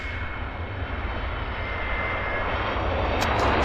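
A KLM airliner at Vancouver Airport: a steady, loud roar of jet engines with a broad rushing hiss and a faint high whine, building slightly toward the end, with no voices.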